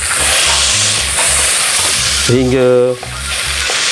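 Minced meat fries loudly in a pan with a dense continuous sizzle and stirring scrapes, while a voice speaks briefly over it partway through.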